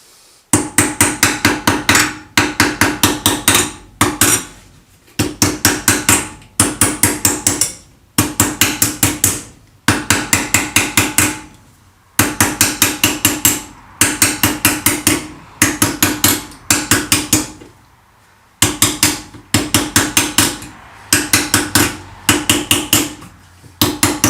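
Rapid bursts of metallic hammer taps shaping metal into a cone, in quick runs separated by short pauses, loud and close, with a bright clanging tone.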